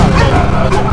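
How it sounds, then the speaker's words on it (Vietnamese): A fat dog barks at a stranger, giving a short, loud, close bark or yip with a voice heard around it. "Dog."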